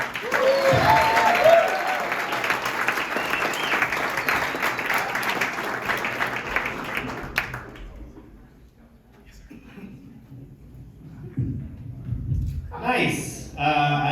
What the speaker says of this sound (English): Make a lot of noise for battle-hardened war hero, Josh Giordano.